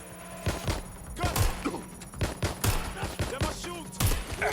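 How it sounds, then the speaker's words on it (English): Rapid bursts of gunfire in Watch Dogs: Legion on PS4, repeated sharp cracks and thumps in irregular volleys, loud and close, with occasional voices mixed in. "Gunfire over here!"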